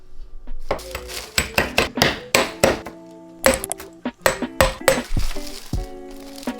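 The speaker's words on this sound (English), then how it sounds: "I'm about to try and use this jar to basically crush the ice." A glass jar bashes ice, likely in a bag, in place of a hammer: about a dozen sharp, loud clinking and crunching impacts in a steady irregular rhythm, close by, with no talking.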